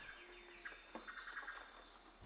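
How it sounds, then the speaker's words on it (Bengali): Birds chirp in a cartoon forest morning, a few bright high tweets and short whistled calls, clear and close against an otherwise quiet background. "পাখিদের কিচিরমিচির"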